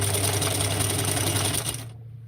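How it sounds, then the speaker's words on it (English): Industrial sewing machine stitching a velvet waistcoat, a loud fast rapid-fire mechanical chatter running steadily close up, then cutting off abruptly near the end. "Banana Diva, not being able to see the bobbin in the industrial sewing machine drives me bonkers."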